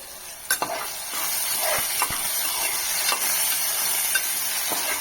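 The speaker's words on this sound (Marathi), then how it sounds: "कांदा टोमॅटो आणि कडीपत्ता कांदा चांगल्या तेलामध्ये परतून घेऊयात" Onion, tomato and curry leaves frying in hot oil and ghee for a Satara-style crab curry, a steady loud hissing sizzle with a few sharp spatula knocks and scrapes, near and unaccompanied by talk.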